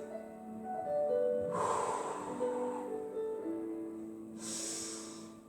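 During a Pilates exercise a person draws a deep, audible breath through the nose, a close, breathy rush that swells and fades, followed later by a second breath, over faint background music.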